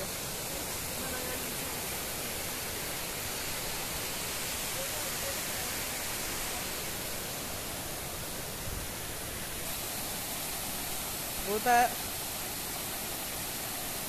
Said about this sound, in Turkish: Belki ses çok gürültülü gelebilir ama dere sesi güzel.